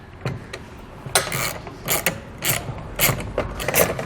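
Nuts being tightened on the load stops of a truck bed ladder rack: a string of short metallic ratcheting clicks and clanks comes in irregular bursts, close and moderately loud, with no talking.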